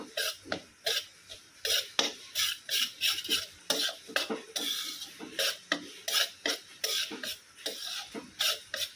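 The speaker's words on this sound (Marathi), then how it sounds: "चला मी पटकन आता भाजून घेते, ब्राऊन होईपर्यंत भाजायचं आहे" Rapid scraping and clinking of a utensil stirring powder in a pan as it roasts until brown, a steady run of close, sharp strokes with no talk.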